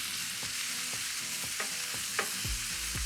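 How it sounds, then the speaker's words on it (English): Stir-frying in a little oil in a large nonstick or well-seasoned cast iron skillet: a constant bright sizzle with regular scraping strokes every half second or so, close and steady, no voices. "dry fry. It's a stir frying technique. So, little bit of oil, large nonstick skillet or cast iron skillet that's well seasoned"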